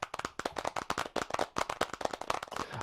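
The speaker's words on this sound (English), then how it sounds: "give yourselves a massive round of applause." Audience members at an engineering awards ceremony clap together in a round of applause, with sharp, rapid, overlapping hand claps, close and crisp, in a brief, busy burst with no talking.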